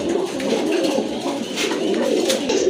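A pair of large Rajgolla pigeons coo softly and repeatedly, close by, over a steady hum of other birds at a pigeon market.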